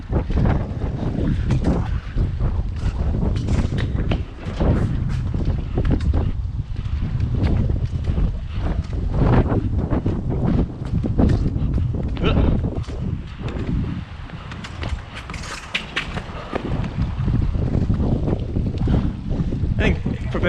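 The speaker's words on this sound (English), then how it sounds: "Also, it's windy." Steady outdoor wind buffets the microphone during a cloudy soccer session in Houston, a loud continuous low rumble with gusty surges throughout, mixed with some voice.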